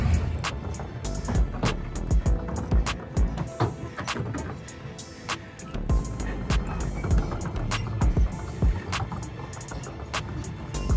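A Wellcraft Scarab 38 speedboat with 900 horsepower of engines rumbles steadily on a lake, a loud, continuous low drone broken by repeated sharp bursts and slaps, with no talking.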